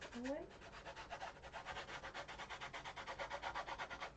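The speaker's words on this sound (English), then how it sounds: "Just going to scrape some of the salt away." Rhythmic, steady scraping of salt crystals being worked off the surface of an abstract painting, a close, repeated rasping stroke that continues throughout.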